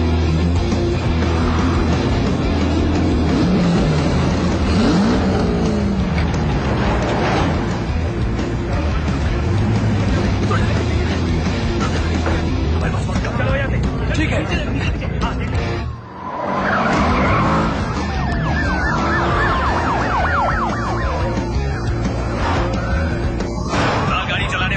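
A stolen car is chased by police cars with sirens: engines roar, tires screech and skid, and wailing sirens sweep through a constant loud mix, with voices talking over much of it.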